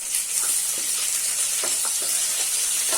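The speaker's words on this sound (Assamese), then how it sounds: "এতিয়া আমি লাহেকে ইয়াত পিঁয়াজ কুটি দি দিম।" Sliced onions sizzling and frying in hot oil for Gobi Manchurian, a steady close hiss with a few soft stirring clinks, no voices.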